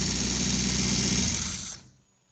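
Car engine with an inductive crankshaft rotation sensor being probed with a polarity test pen during diagnosis, idling steadily and fairly loud, then dying abruptly and winding down into near silence.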